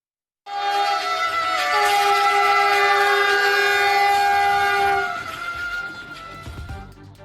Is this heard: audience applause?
no